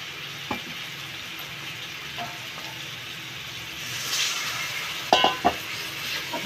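Spice paste with tomato sizzles steadily in a pan on a low, even hiss, with a couple of sharp clatters of a spoon or utensil against the pan near the end, cooking for a rohu fish curry with potato and pointed gourd.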